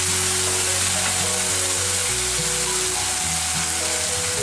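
Curry leaves crackling and sizzling in hot oil in a pan while cooking a suvarnagadde (elephant foot yam) palya, a steady loud dense frying hiss throughout with no talk.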